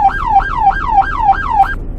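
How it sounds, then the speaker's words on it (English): Police car siren in the Roblox game Greenville, its second tone: a fast, clean rising-and-falling wail repeating about six times in quick cycles, loud and alone, cutting off abruptly near the end. "second siren,"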